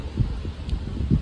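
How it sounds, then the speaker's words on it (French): Wind blowing steadily at the grand canal in Fontainebleau, a continuous low rumbling rush with gusty swells, heard close with no voices. "avec le bruit du vent et tout et tout"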